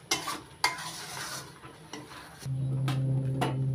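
Coconut paste cooked with sugar in a pan, stirred with a few loud scraping strokes and clacks of a spoon over a soft bubbling simmer, close by, followed by a steady low hum.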